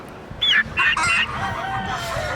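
A turkey calls loudly up close, a few sharp squawking bursts followed by softer, drawn-out calling.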